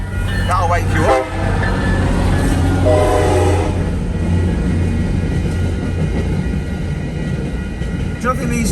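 A train rumbles steadily with a low drone while a horn-like tone sounds early on, and people talk briefly over it.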